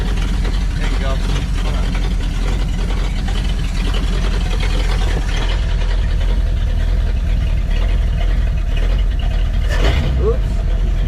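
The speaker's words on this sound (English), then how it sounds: "that's idle right there, baby" A 1952 Packard flathead engine idling, a steady low rumble held close and continuous throughout, with faint talk in the background.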